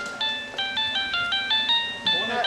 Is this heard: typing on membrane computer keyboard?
no